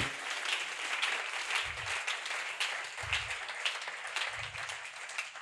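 A church congregation applauding during a sermon, steady sustained clapping from a crowd with rhythmic low thumps underneath.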